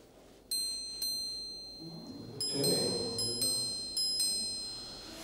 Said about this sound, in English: Chiming watch.